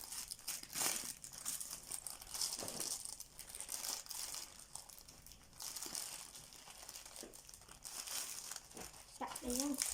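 Crinkly plastic or paper wrapping being handled and torn open up close, with continuous rustling and crumpling while people talk alongside.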